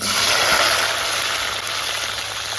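Small shallots fry in sesame oil with fenugreek seeds for a village-style Tamil vathal kuzhambu, giving a loud, steady, close hiss of sizzling oil that runs unbroken from start to finish.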